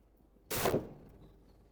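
A single solid thunk of a classic Chevrolet Impala door shutting, close by, followed by a brief fading resonance in an otherwise quiet space.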